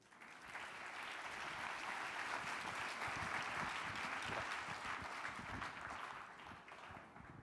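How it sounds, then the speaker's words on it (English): Sustained applause from a festival audience rises after a conference talk and holds steady for several seconds, a dense, even patter of clapping heard from within the room. "Big round of applause once again."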